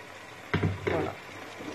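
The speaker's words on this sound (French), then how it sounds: "nous prenons la tomate que nous avons écrasée et nous la versons" Crushed tomato hits browned minced meat in a hot pan, with a sudden loud sizzle followed by a second splash and continuing crackling fry.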